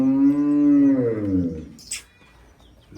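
A crossbred Sahiwal cow gives a single long, loud moo up close, falling in pitch before fading out, followed by a brief rustle and then near quiet.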